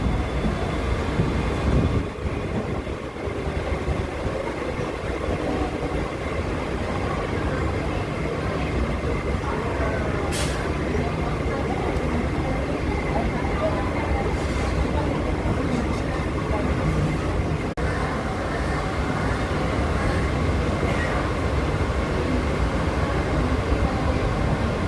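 A Mumbai slow local train runs on the CSMT to Vashi line, giving a continuous loud rumble and rattle of the carriage from inside, with a couple of brief sharp clicks and people talking in the background.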